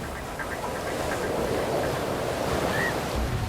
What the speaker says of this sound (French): c'est un jour de grand vent, hein, la mer est bien démontée